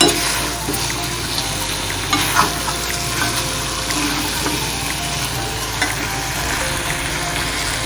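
A drumstick stir-fry with coconut sizzles steadily in a pan as it is stirred, a close, continuous frying hiss with occasional scraping knocks and no talking.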